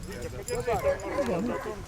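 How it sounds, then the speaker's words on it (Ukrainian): A hound, a hunting scent dog at a Chernihiv hound event, gives melodic, wavering baying barks in several overlapping calls, moderately close, while people talk nearby. "Прекрасна, красива собака. З дуже теж красивим голосом я хотів би відмітити."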